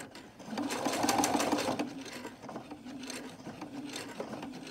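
A sewing machine stitches the fabric of a simple shopping bag, humming in a steady run that swells early, then continues at an even, close, moderate level with no talking.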